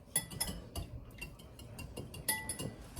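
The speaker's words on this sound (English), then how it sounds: "And you're gonna beat the egg." An egg being beaten with a small beater in a bowl, quick light clinks and taps of metal against the dish in an irregular rhythm, close and with no talk.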